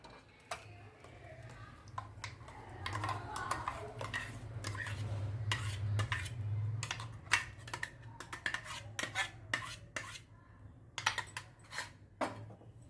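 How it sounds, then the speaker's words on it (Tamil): A spoon scrapes and clinks repeatedly against a metal pot while stirring milk with ground carrot-almond paste, irregular taps over a low burner hum. "இதை வந்து நல்லா கிளறிக்கலாம்"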